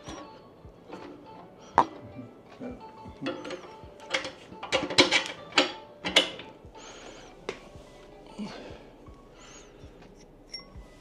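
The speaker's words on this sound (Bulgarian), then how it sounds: "ще сложа първо тези предните болтове" Front bolts are being fitted on a Yamaha XV 920 motorcycle during a café racer build in a garage. Scattered metallic clinks, taps and ratchet-like clicks come in irregular bursts, close by and fairly quiet, with no clear talk.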